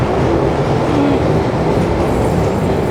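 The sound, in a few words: London Underground train arriving at Lambeth North platform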